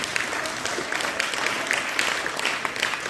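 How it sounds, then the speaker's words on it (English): A church congregation claps hands together at a Christmas Eve service, a dense, steady round of applause held at an even level for a few seconds with no voices breaking through. "give God a hand clap for prayer"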